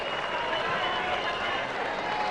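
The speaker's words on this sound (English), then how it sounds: "This crowd giving both players a big ovation" Large tennis crowd at center court during a final applauding both players, a dense continuous wash of clapping heard from within the stands, with commentary voiced over it.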